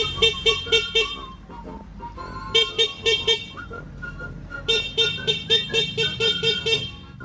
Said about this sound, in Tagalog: Kabitan natin ng gantong busina.